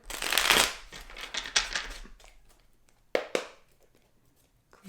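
Oracle cards being shuffled by hand, a loud papery riffling burst at the start that thins out, followed by a few sharp card snaps and handling sounds, close up with no talking.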